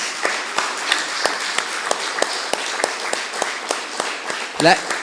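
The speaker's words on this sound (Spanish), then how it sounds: "¿Cuánto le da un aplauso al Señor?" A church congregation claps together in a steady, rhythmic beat, fairly close and sustained throughout, with a brief burst of voices near the end.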